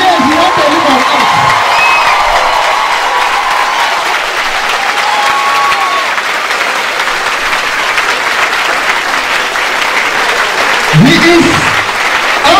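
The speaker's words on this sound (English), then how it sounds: "Maybe I should ask you to clap for God Almighty." Loud crowd applause with cheering and whoops at a university campaign event at UNN, continuous clapping throughout with a voice speaking near the start and again toward the end.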